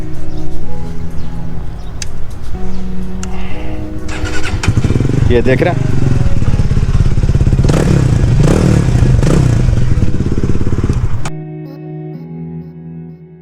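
A Benelli TRK 251 touring motorcycle starts up and idles with a rough, throbbing engine note and some mechanical clatter, loud and close, then cuts off abruptly near the end. Someone speaks briefly over it.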